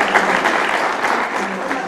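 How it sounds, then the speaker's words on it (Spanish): A loud, dense round of audience applause fills the hall at an international arbitration and conciliation congress as a doctor is invited forward, sustained clapping from many people throughout. "un fuerte aplauso, por favor"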